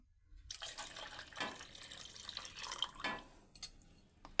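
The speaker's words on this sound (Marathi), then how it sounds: "एक ग्लास बॅटर घेतलं तर एक ग्लास पाणी घ्यायचं आहे" A glass of water is poured into rice batter for Konkan-style ghavane: a short, close splashing pour that starts after a brief silence, trickles on for a few seconds, then ends with a small clink.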